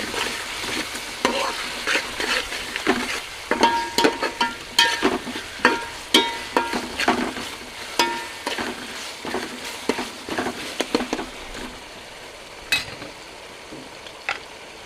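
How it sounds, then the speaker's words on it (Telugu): Chili powder fried with onion and tomato in oil for egg dum biryani, a spatula scraping and clacking against the pan in quick repeated strokes over a constant sizzle, close and clear, with no one talking. "కారం వేసి కొంచెం ఫ్రై చేద్దాం నూనె పైకి వచ్చే వరకు"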